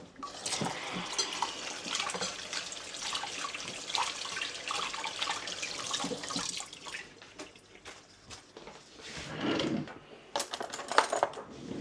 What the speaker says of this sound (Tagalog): ako ay maghuhugas ng kamay muna